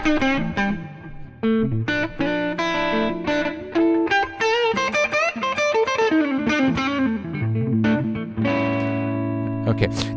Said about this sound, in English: Then you can add the reverb, and the sound is really tri-dimensional.